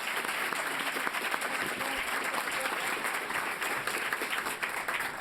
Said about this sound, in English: A round of applause for our sponsors.